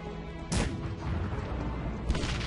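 Cannon fire in the video game Cossacks 3: two sharp booms about one and a half seconds apart over a steady low battlefield rumble, with no talk.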